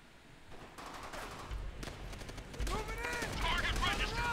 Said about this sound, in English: Oh, now they shoot him.